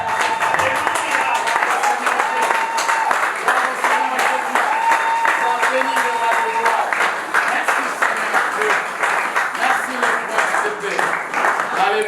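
A church congregation applauding and cheering in praise of God, a dense sustained wave of clapping and voices filling the hall for twelve seconds, with a voice calling out over it.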